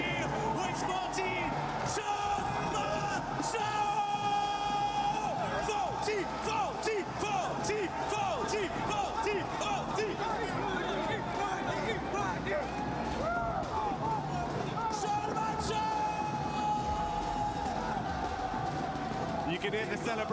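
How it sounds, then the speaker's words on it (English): A large crowd cheers and roars inside an esports arena hall during a grand final watch party, with dense continuous applause, whoops and yells echoing loudly throughout, and a commentator talking over the noise. "You can hear the celebration in the arena."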